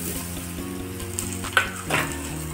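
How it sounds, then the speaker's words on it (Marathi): Spiced masala and potatoes fry in a pan with a steady close sizzle, and a spoon stirring through them gives a couple of soft scrapes and knocks. "हे सगळं चांगलं फ्राय करून घेणार आहोत आपण"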